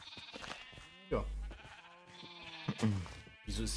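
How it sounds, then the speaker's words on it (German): Sheep bleating in the Minecraft video game, a few distinct wavering bleats close by, alongside someone speaking German. "Wieso ist hier ein Schaf draußen?"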